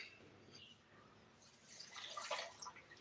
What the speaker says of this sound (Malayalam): നമുക്ക് ഇതിന് ഇത്ര വെള്ളം ഒഴിച്ചു കൊടുക്കാം